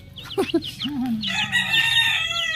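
Chickens and chicks cluck and chirp close by, with a rooster-like crow and a cluster of high peeping calls overlapping in a farmyard.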